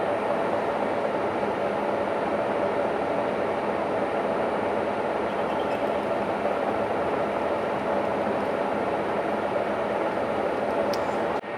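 A lathe boring bar cuts a hardened steel gear, making a steady broadband hissing, grinding drone that stays loud and even throughout, with no voices.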